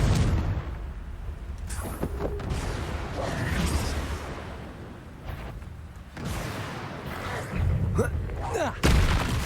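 Confringo fire-spell blasts from the video game Hogwarts Legacy, heavy booms and sharp bursts that repeat over busy combat sound, with a voice shouting during the fight.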